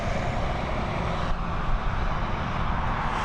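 Lufthansa airliner departing Dublin Airport, a steady broadband engine roar held at constant loudness throughout, with no talk over it.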